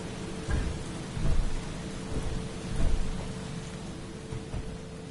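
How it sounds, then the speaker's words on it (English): Thunderstorm in the Space Engineers video game: steady rain hiss with several low rumbling thunder swells, alone and without talk. "thunderstorm."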